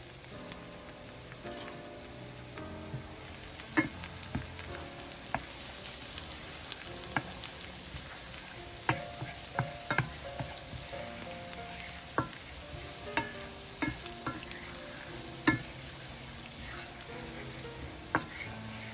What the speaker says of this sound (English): I'm going to cook it for about a minute or so, just until the garlic releases the flavor.